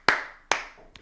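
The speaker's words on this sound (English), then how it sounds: "So just a round of applause for Quentin Lucas." Three slow, isolated hand claps ring out sharply and close by, each with a short room echo. The last clap is much fainter than the first two.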